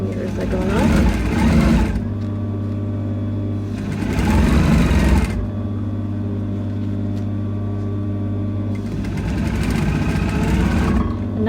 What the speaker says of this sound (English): Just sewing off my 1 centimeter as I go along.